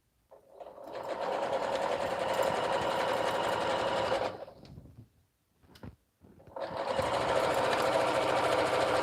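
A sewing machine stitches a minky baby blanket in a fast, steady mechanical whir, running for about four seconds, pausing briefly with a small clunk, then starting up again at full speed, with no talking.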